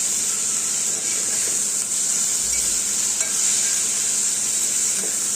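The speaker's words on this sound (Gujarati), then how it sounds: "હવે આપણે આને આ રીતે પકાવી લઈશું ડુંગળી મરચાં." Onions and green chilies with a little salt sizzle steadily in hot oil as a spoon stirs them through the pan, a loud continuous frying hiss with occasional soft scrapes.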